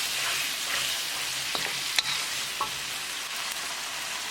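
Chilli chicken frying and being stirred in a pan, a steady bright sizzle with a few light clinks of the spoon, and no voices.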